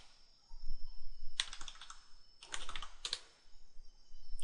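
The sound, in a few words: typing a command on a computer keyboard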